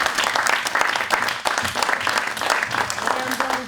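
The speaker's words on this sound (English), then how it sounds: "How about a round of applause for these two?" An audience at a magic show claps for two volunteers, a dense, sustained wash of applause filling the whole moment, close and loud with no pauses.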